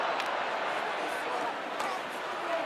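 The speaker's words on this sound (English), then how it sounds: "Gets another roar from the crowd" A dense, steady roar from a big stadium crowd at a Missouri Tigers versus Oklahoma Sooners college football game, broad and unbroken across the whole stretch, with a voice talking over it.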